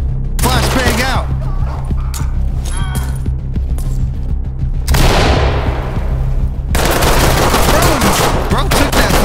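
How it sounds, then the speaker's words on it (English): A flashbang grenade bursts in the tactical shooter Ready or Not, loud and broadband with a fading ringing sweep, amid bursts of rapid gunfire that continue close by. "Flashbang out!"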